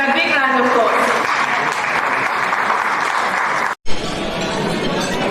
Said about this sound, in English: Guys, please give them a big round of applause.